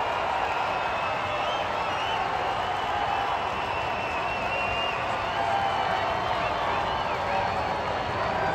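Large baseball crowd at PNC Park during a Pirates versus Braves game, a steady roar of cheering and applause filling the stadium throughout, broad and continuous without a clear break.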